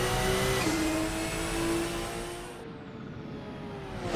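A Porsche 911 GT1-98 engine in a racing game revs loud and close, pitch sweeping and stepping through gears, then easing back to a lower, steadier drone.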